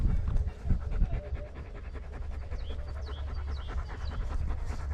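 A small dog pants rapidly and steadily close by during a cycle tour, with faint road and wind noise behind it.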